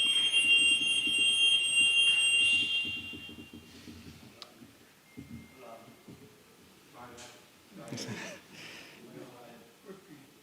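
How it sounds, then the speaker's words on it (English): A building alarm sounding as a test gives a loud, steady electronic tone for about three seconds in a lecture room, then cuts off as people begin talking. "Is it a real alarm or is it just a test?"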